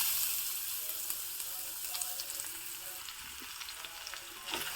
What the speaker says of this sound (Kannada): ಈಗ ನಾನು ಇದಕ್ಕೆ ಸಣ್ಣದಾಗಿ ಹೆಚ್ಚಿಟ್ಕೊಂಡಿರೋ ಬೀಟ್ರೋಟ್ನ ಹಾಕ್ತಾ ಇದ್ದೀನಿ